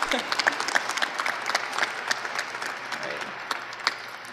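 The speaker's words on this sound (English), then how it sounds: "Please join me in another round of applause." Commencement audience at a Bismarck State College graduation ceremony applauding, a steady wash of many hands clapping with scattered sharper claps, sustained evenly throughout at moderate volume in a large hall.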